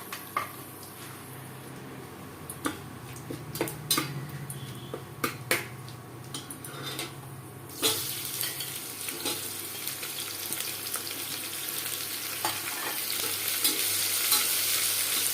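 Cumin, bay leaves and chopped onion frying in hot oil for a country-style jackfruit curry. A continuous close sizzle carries scattered spoon taps and clinks, and the hiss grows brighter and louder halfway through.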